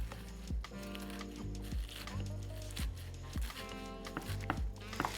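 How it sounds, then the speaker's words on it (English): A knife slices spinach into thin chiffonade strips on a board, making quiet, evenly spaced cuts in a soft, regular rhythm with a faint tonal hum behind them. "next we're going to chiffonade, which means make little slices of the spinach"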